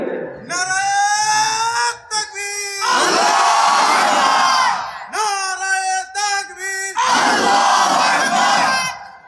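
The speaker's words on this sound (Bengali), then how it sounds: "একজন জোরে তাকবীর দেন।" A large crowd at a Bangladeshi religious gathering roars the takbir, Allahu Akbar, in loud unison. A single voice leads each call and the massed answer swells back, repeating twice in a call-and-response rhythm.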